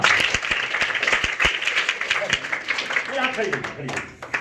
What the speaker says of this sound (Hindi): हाँ, एक बार ताली बजाइए।